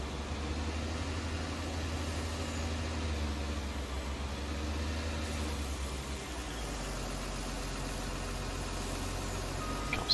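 Heavy trucks in Farming Simulator 19 rumble steadily into a gravel mine on the Pleasant Valley map, a continuous loud low engine drone with no pauses and no talk.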